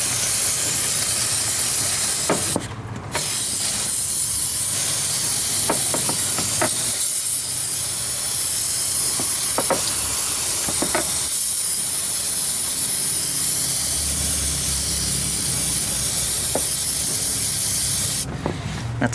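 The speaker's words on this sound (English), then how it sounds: "Take a can of brake cleaner, use it to clean off the AC compressor and everything." An aerosol can of brake cleaner sprays onto the AC compressor of a Chevy 5.3 Vortec LS engine. It is a long, loud, nearly continuous hiss with a few brief breaks and light rubbing knocks.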